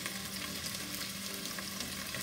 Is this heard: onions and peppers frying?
yes